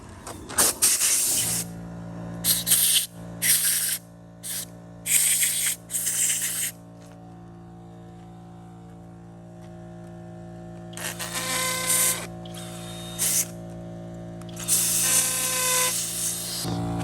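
Several loud bursts of a battery drill driving anchors into concrete, each lasting a second or so, separated by pauses and a steady background hum, with a longer run of drilling near the end.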